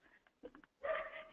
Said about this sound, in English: You hear my dog barking?